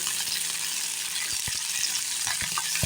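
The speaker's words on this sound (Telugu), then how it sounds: "పచ్చిమిరపకాయలని చక్కగా కట్ చేసి వేసి చక్కగా వేయించుకోవాలి" Chopped green chillies frying in a pan for a leaf chutney, a steady loud sizzle throughout with a few soft stirring knocks, close up and with no talking.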